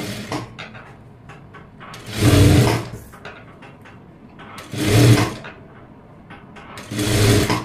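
A sewing machine stitches a puff-sleeve blouse in three loud, whirring runs of about a second each, with quiet pauses between them filled with small handling clicks.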